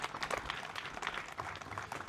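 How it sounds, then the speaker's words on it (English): An audience of scions of 17th Airborne Division veterans, on a European trip at a monument, claps in quiet, distant, continuous applause for a couple of seconds. "please give them a round of applause"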